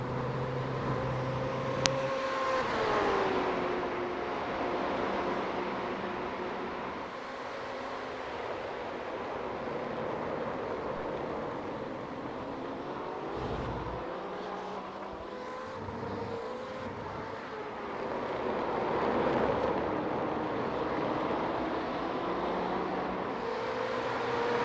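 A BMW race car in the iRacing sim at Phillip Island, its engine droning continuously from onboard, with pitch rising and falling through gear changes and corners over the whole stretch, loud and unbroken, with no voices.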